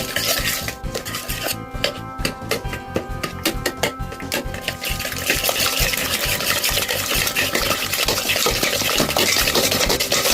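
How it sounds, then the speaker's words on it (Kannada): Batter for a muskmelon sponge cake is beaten hard in a bowl, a loud, continuous whisking and scraping that grows denser and more even over ten seconds, with no one speaking. "ಇದನ್ನು ಈಗ ಚೆನ್ನಾಗಿ ಬೀಟ್ ಮಾಡುವ"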